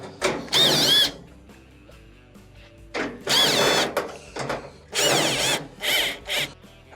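A power drill whirs in four short bursts, spinning out quarter-inch screws from the top panel of a GE dryer being repaired, with quiet clicks and handling between bursts.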